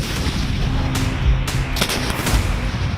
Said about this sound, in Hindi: इसमें एक बार में 40 रॉकेट लोड होते हैं जो 20 सेकंड में फायर किए जा सकते हैं